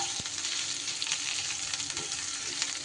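Chopped onion frying in oil for chicken kala bhuna, a steady close sizzle with occasional stirring scrapes, no voices.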